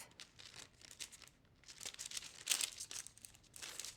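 Duct tape folded over on itself, giving close crinkling and crackling bursts that swell and fade in uneven waves, sharpest about midway through.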